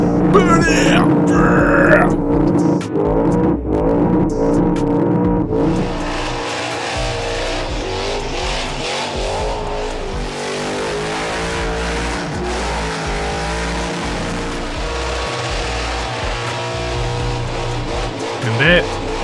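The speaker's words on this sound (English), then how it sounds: "that, my friends, is how they do a burnout in Australia" A car engine roars and revs hard during a burnout in Australia, exhaust pouring out flames, with a high screeching whine over the sustained engine noise and excited voices in the background.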